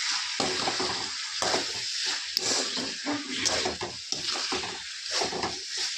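A utensil stirs salt into curry in a hot pan, giving a continuous close sizzle with repeated scraping and stirring strokes and a brief metallic clink.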